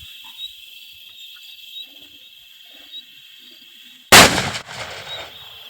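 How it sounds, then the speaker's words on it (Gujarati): A single loud, sharp blast from a homemade pipe-gun firecracker bursts out after several seconds of steady insect buzzing and faint bird calls, then fades quickly back into the night ambience. "હવે આ તો બીજો બોમ્બ ફોડે છે"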